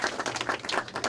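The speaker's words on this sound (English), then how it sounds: "A round of applause for him, please." A crowd claps steadily to welcome Mr. Harry Benz, a Member of Legislative Assembly, at a public event. The applause is dense and continuous, with no voices over it.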